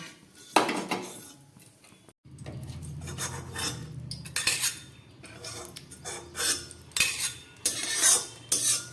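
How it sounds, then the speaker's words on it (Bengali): A metal spatula scrapes and clinks against a pan, lifting fried fenugreek seeds out of hot oil during fish curry cooking, with repeated close metallic scraping and clatter of varying loudness. "এই মেথিগুলোকে খুন্তির সাহায্যে তুলে ফেলবেন"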